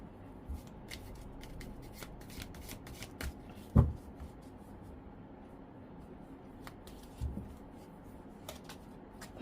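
A Miracle of Life oracle deck is shuffled in soft, steady close-up card rustling, with a couple of light taps or knocks, and no voice is heard.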